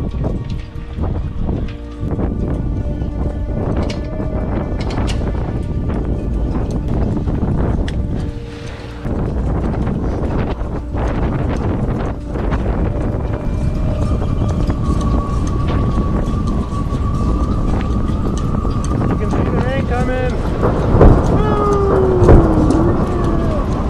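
Strong squall wind roars constantly across a boat, with dense rushing noise and buffeting throughout, loud and close, plus occasional tonal whistles or alarm-like tones near the end.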